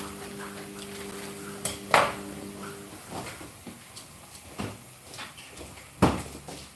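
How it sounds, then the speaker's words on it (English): Meatballs and bacon being stirred in a cooking pan, with scattered utensil clinks and knocks against the pan, two sharper clanks standing out, moderately quiet and close with a low background hum. "Now gently stir it all up"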